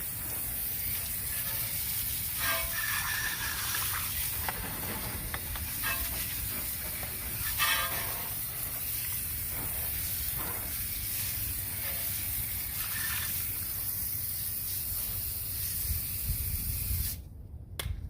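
A garden hose sprays water steadily onto a car wheel and into its barrel, rinsing out dirt with a constant close hiss and splatter that runs unbroken for most of the time, then cuts off briefly near the end.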